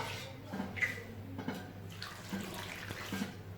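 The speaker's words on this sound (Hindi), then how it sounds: "आप हाथ की मदद से या किसी बाउल की मदद से थोड़ा थोड़ा पानी आटे के अंदर डालें।" Water trickles a little at a time into flour in a large kneading dish on a kitchen slab, with faint splashes and soft handling noises, quiet and close.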